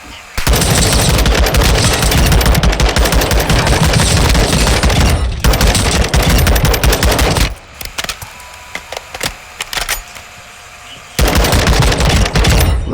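Rapid automatic gunfire in a video game, loud sustained bursts of shots with a short lull of scattered single shots before firing resumes.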